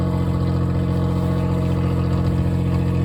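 A car engine running steadily just after a reluctant cold start in a hard freeze, a loud continuous low hum with a slight rising rev, close and alone with no talking.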